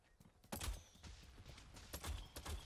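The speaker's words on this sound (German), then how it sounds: "Es wird hier gerade geschossen irgendwo." Rapid gunfire in the battle royale game Realm Royale, a string of sharp cracking shots in irregular bursts, fairly faint and somewhat distant, with no talk over it.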